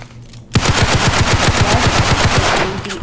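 Rapid automatic gunfire from the Roblox game Criminality rattles out in a loud, steady burst of about a dozen shots, close and dominant after a brief quiet start.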